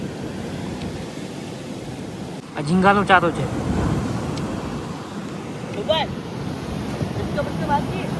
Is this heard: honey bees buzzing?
no